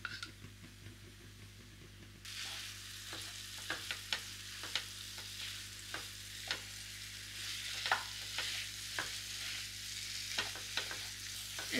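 Food stirred and frying in oil in a wok, a steady sizzle with repeated sharp scrapes and clicks of a spatula against the pan, close and fairly quiet, without speech.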